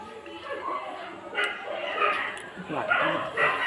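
Dogs bark and yip at a distance amid background chatter, the barks coming in scattered bursts rather than a steady rhythm.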